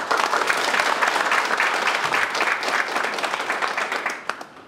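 An audience at a provincial government town-hall meeting in Uljin County claps in a dense, steady burst of applause that thins into scattered claps and fades out.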